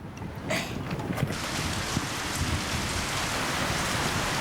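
Rain begins to fall and quickly settles into a steady hiss of drops on surfaces, a few brief knocks early on, then continuous and fairly close with no talk.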